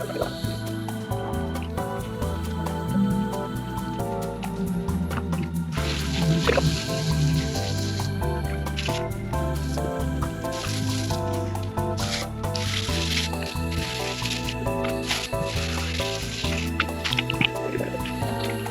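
Water spraying and splashing while washing the wheels of a Chevrolet Suburban with an 8.1L engine, a continuous wet hiss with drips and irregular splatters close by and no talk.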